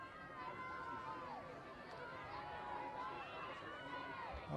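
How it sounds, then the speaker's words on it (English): Spectators on the riverbank at a rowing regatta cheer and shout for the rowers, a distant, steady crowd with wavering raised voices carrying throughout. "Up go the cries from the bank"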